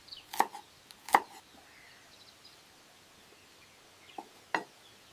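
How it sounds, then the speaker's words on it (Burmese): Ginger, garlic and chili being sliced on a board: a few sharp knife chops spaced apart, fairly faint and close, with quiet room ambience between them. "ဂျင်းကြက်တုံပြူငရုတ်သီးကိုအရင်လှီးမယ်"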